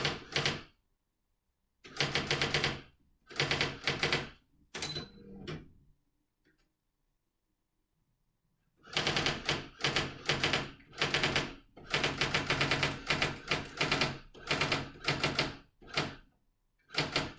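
Converted electric typewriter working as a keyboard, typed in loud, rapid bursts of clacking keystrokes separated by pauses, with a long silent gap midway before the fast typing resumes.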